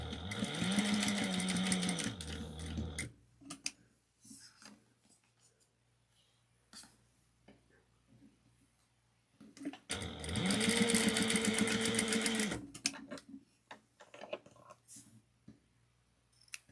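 A sewing machine top stitches the sides of a cotton wristlet in two loud, steady runs of rapid mechanical whirring, separated by a quiet pause with faint handling clicks.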